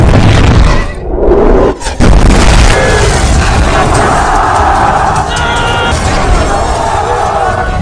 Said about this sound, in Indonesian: Serangan diawali dengan meriam yang membuat benteng Konstantinopel hancur.